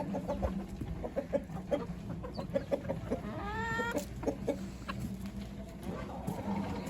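Mixed-breed chickens cluck softly in short repeated notes, with a rooster crowing briefly in the middle over a steady farmyard hum.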